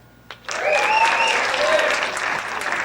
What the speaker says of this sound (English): give another round of applause for our seniors who we celebrate tonight